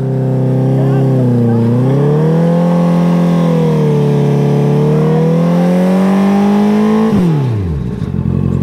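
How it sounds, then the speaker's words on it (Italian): Enduro motorcycle doing a burnout on an abandoned track, its engine held at a loud steady high rev for several seconds, then cutting off sharply and winding down to near silence. "è un po' di burnout per inaugurare la pista."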